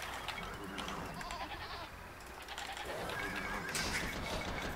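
Sheep bleating in a strategy video game, a few thin calls rising over a steady, busy background of game ambience, moderately faint and without any talk.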